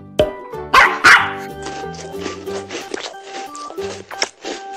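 A dog barks while being fed, in a cartoon. Several sharp, loud barks come near the start, followed by quieter yips and bark-like sounds over a tonal musical background.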